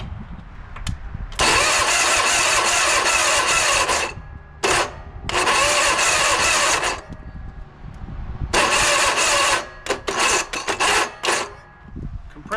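An Ariens lawn tractor engine with a weak, worn starter cranks in several labored grinding bursts of a few seconds each, close and loud, with short gaps between attempts and no catch.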